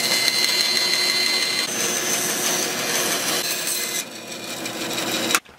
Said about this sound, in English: Now to put the relief cut.